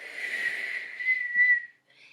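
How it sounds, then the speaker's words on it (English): A steady, high whistle tone held for about a second and a half, then a short softer blast after a brief pause. "And then she blew on her silver whistle"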